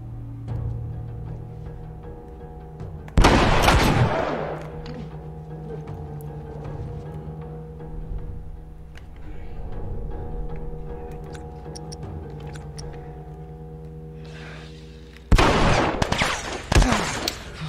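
Gunfire in The Last of Us: a loud burst of shots early on, then a quieter stretch of game ambience, and another cluster of sharp, heavy shots near the end.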